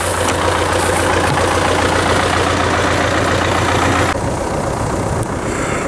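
A tractor engine idles during hay raking in a field, a steady low rumbling drone heard close and continuous, dropping slightly in level toward the end.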